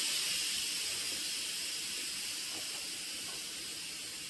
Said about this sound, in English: I am going to toggle so that it releases any remaining steam in the Instant Pot.